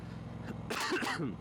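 A single close cough or throat clear, short and raspy, over a low engine-like rumble from a 2022 Triumph Bobber motorcycle.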